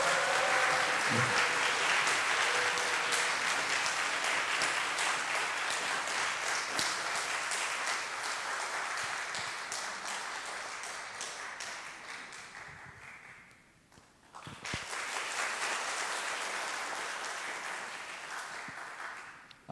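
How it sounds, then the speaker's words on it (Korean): A church congregation at a new-members blessing service applauds to welcome a deacon forward, a loud sustained roar of many clapping hands that briefly dips almost to silence, then swells back and carries on to the end. "예, 박수 쳐주세요."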